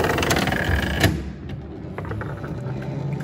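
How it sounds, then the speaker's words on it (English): A hand crank turns on a 1906 Gables Entertainer coin-operated disc jukebox, giving close mechanical ratcheting and clicking from gears, with a sharper clack near the start before a softer whirring hum takes over. "There's a crank on it."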